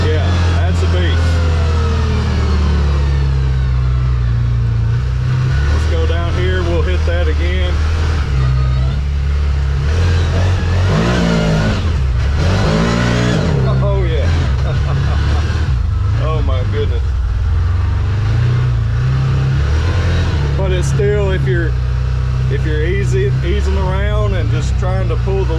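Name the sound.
CFMOTO UFORCE 1000 side-by-side engine accelerating, tuned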